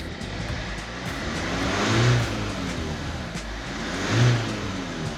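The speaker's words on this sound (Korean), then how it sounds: "출력을 한번 올려서 엔진의 잡소리가 나는지" A Hyundai All New Tucson engine hums steadily, then revs up twice, each rise swelling louder and falling back to idle.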